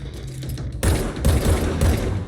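Bursts of gunfire in the video game Control, a rapid cluster of loud shots close up and alone with no talk.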